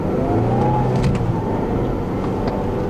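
A 2009 Toyota Corolla XRS manual engine revs through its exhaust with a flat, droning hum, heard steadily and moderately loud throughout with no voices.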